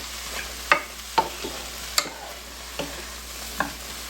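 Vegetables for plant-based burgers frying in a pan, a soft continuous sizzle broken by several sharp clicks and scrapes of stirring, close and moderately quiet.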